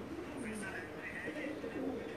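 A Pakistani pigeon coos steadily from a rooftop loft in Jeddah, Saudi Arabia, with soft murmurs repeating close by while someone talks over them.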